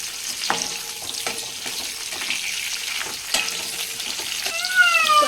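Green chillies frying in hot oil for mirchi ka salan produce a continuous close sizzle, broken by occasional stirring scrapes and clinks of a utensil against the pan.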